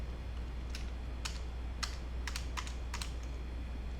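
Keys tapping on a computer keyboard, with backspace presses among them, in a handful of quick, light clicks and short bursts spread over a few seconds against a steady low hum.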